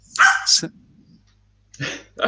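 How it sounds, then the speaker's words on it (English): A dog excitedly barking on a couch indoors, giving a few loud, close barks at the start, then a pause and two more sharp barks near the end. "my dog's freaking out on the couch here"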